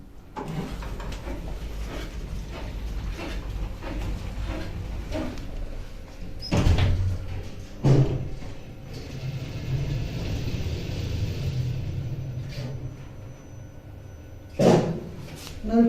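Original Eco Disc hotel lift in Venice running with a low mechanical rumble, its doors sliding and thudding shut several times at moderate distance, no talking.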